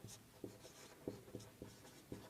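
Pen scratching out the frustum volume formula by hand, soft rhythmic strokes with small taps roughly every half second, close and faint.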